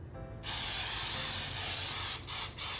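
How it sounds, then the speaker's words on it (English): Cooking spray hisses from a can onto a fluted cake pan in one long, steady, close spray, followed by two quick short bursts. "Making sure I spray it down well."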